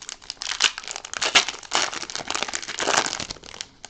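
A Magic: The Gathering booster pack wrapper torn open and crinkled, heard as close, loud bursts of foil crackling and ripping in quick irregular pulses over about four seconds.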